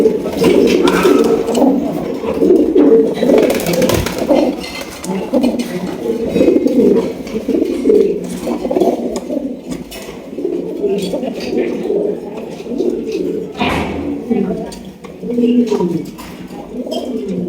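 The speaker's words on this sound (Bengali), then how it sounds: "এখানে রয়েছে একজোড়া লাখা কবুতর" Pigeons, including a pair of white Lakha pigeons, coo repeatedly in low rolling calls at close range, with someone talking over them and occasional light clatters in the background.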